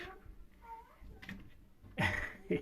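A cat gives a few short meows, a soft one early on, then two louder, sharper calls near the end.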